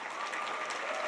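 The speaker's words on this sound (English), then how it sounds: "they're clapping for you already" Audience applause at a gala event, a steady wash of many hands clapping at close range, continuous and fairly loud across the whole moment without talk.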